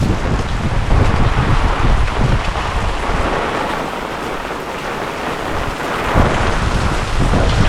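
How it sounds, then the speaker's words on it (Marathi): Heavy rain pours down loudly and steadily, a dense roaring hiss with low rumbling swells and no voices. "पाऊस बघा किती पडतोय एकदम जबरदस्त"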